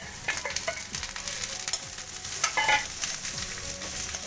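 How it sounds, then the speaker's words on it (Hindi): Onions and sprouts sizzle and crackle steadily in a hot pan, with occasional stirring scrapes, close and fairly loud, no voices. "अब हम डालेंगे इसमें प्याज, इसको अच्छे तरीके से भून लेंगे।"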